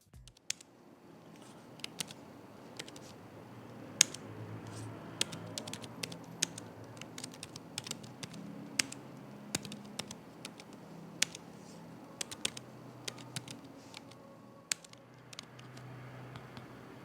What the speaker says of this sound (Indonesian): berikut ini deh, Pichel coba kasih tunjuk feedback dari keyboardnya.